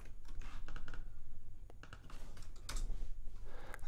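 A computer keyboard is tapped fast and steadily as a command is typed on a Windows 10 machine, close and clear above a low background hum, with one short pause midway.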